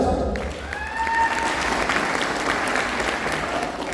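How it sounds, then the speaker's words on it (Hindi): A crowd claps loudly and continuously at a business achievers' gathering, with thick sustained applause after a brief voice at the start. "मैं सबों के लिए एक बार चाहूँगा जोरदार ताली हो जाए।"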